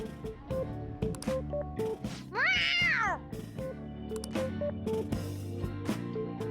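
A cat in the video game Persona 5 Royal gives one drawn-out, wavering meow, loud and close over a steady musical backdrop.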